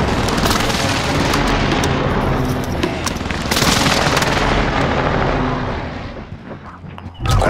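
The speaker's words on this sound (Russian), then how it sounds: "Они наносят точечный авиаудар." An air strike in the Call of Duty: Warzone video game brings a dense, continuous barrage of loud explosions and gunfire-like blasts that roll on for several seconds before thinning out.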